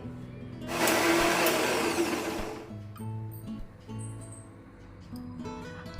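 A kitchen blender grinds ginger, green chili and cumin into a dry paste with no water, a loud whirring burst of about two seconds followed by quieter intermittent hums and clatter.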